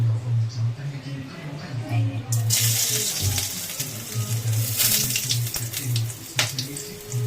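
Whole spices such as cardamom crackle and sizzle in hot oil in a home kitchen, a loud hissing burst that settles into steady spitting, with someone talking over it.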